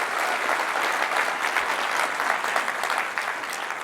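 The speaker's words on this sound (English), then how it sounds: "One last round of applause for Jody and the entire demo crew." An audience at a tech conference keynote claps steadily for the demo crew, a dense, even round of applause that lasts throughout.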